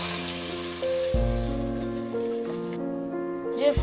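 Water poured into a hot cooking pot that already holds red oil and salt, giving a steady splashing hiss like rain on a surface, with music playing behind it.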